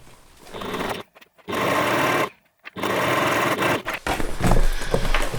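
A sewing machine stitches backpack fabric in loud, fast, whirring runs, stopping briefly twice and then resuming with a short uneven burst at the end.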